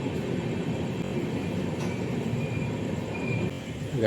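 Passenger train out of Howrah running along the track, a steady low rumble and rolling rattle heard from on board, fairly quiet and continuous with no talking.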